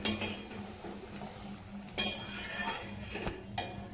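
A spoon stirs brinjal and potato curry in a metal pot, scraping and clinking against the sides in a few sharp knocks, close and fairly loud.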